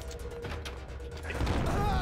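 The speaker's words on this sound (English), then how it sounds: "Did he just throw a grenade?" A grenade thrown in the video game Max Payne explodes in a loud, broadband blast that swells in the second half and holds steady to the end, over rumbling game ambience.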